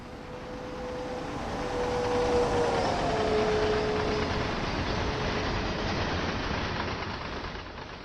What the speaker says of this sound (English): Do you believe there's a train coming in?